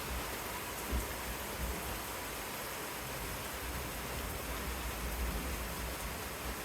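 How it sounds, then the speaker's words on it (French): Heavy rain pours steadily during a violent thunderstorm, a dense continuous hiss with low rumbles of thunder underneath and no talking. "Ah, ça tonne."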